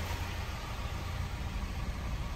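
A Volvo 240 wagon engine idles smoothly and steadily, a faint, even low rumble with broad hiss and no talking.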